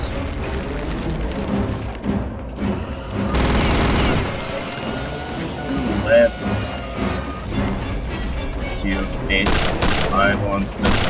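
Rocket fire in the video game Return to Castle Wolfenstein blasts out as loud bursts and explosive crashes mixed with gunfire, heavy thumps recurring through busy combat while a player talks over it.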